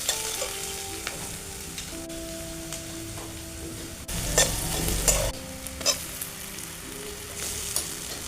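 Onions and garlic sizzle and fry in a pan over a village wood fire while a utensil stirs and scrapes them, with steady crackling frying and a louder burst of stirring midway.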